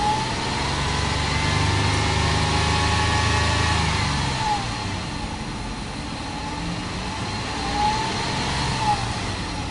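A V6 car engine runs steadily, with a low rumble easing after the first few seconds into a smoother idle and faint whining tones above it, heard alone at moderate loudness.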